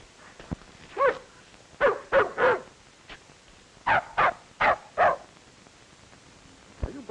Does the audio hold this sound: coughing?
no